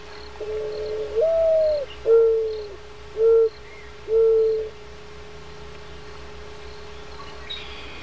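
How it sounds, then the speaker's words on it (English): A mourning dove gives its cooing call, four soft, clear, drawn-out notes in close succession near the start, then quiet with a faint steady background tone. "A mourning dove raised by itself so that it never hears another dove will still give the same cooing call as other doves."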